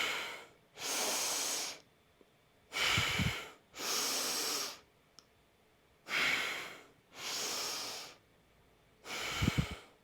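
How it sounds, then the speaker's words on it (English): Deep breathing during a hatha yoga class, six slow loud breaths close to the microphone, each a long airy inhale or exhale separated by short pauses, with a faint low thump under two of them. "let's do our 5 deep breaths"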